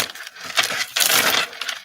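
Modern Witch Tarot cards shuffled by hand, giving a few soft rustling, riffling bursts of paper cards close to the microphone, with no talking.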